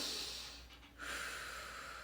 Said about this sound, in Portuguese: No início do trabalho de parto, vai ser uma respiração assim lenta